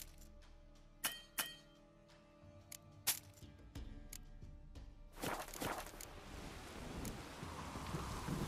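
A few sharp clicks and taps at first, then a heavy rain downpour in The Witcher 3: Wild Hunt swells in and hisses steadily, growing louder toward the end.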